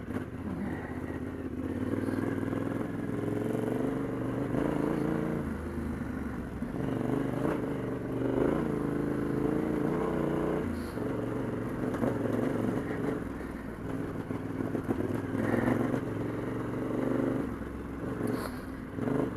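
A Yamaha T7 motorcycle engine chugs along a trail at low revs, a steady moderate drone that swells and eases slightly with the throttle, recorded from the bike itself.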